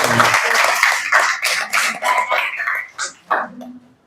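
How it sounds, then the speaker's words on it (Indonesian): A class of seventh-grade students gives a short burst of applause, ragged claps fading and thinning out within a few seconds, with a voice or two murmuring over the clapping. "Berikan aplaus buat kita semuanya."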